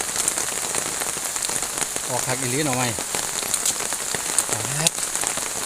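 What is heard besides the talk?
rain falling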